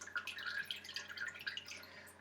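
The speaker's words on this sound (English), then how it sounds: "Now I'm lifting this out of the water." Scaled snapper fish lifted out of a bowl of water in a kitchen, with a steady run of light, close water drips and trickles spattering back down for a couple of seconds.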